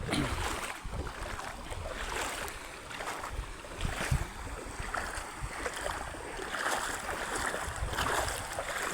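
Floodwater released from a dam rushes past in a steady, broad, whooshing roar with some wind buffeting, fairly faint and continuous.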